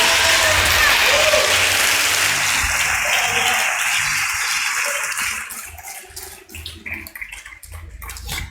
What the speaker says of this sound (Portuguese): se é para aplaudir, aplaude direito